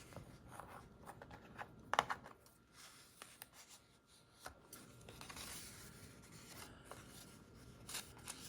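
A square 6x6 sheet of paper is folded in half, with quiet close rustling and scraping as the paper is handled and the crease is pressed down, plus a few sharper crinkles. The sounds are faint and no one speaks.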